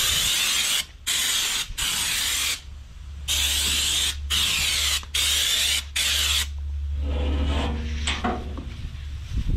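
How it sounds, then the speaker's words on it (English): Loud bursts of hissing spray in repeated pulses with short gaps as Raptor bed liner is sprayed onto a trailer, over a low steady compressor hum, ending with clattering and mechanical noises. "So you can spray it, you can spray it."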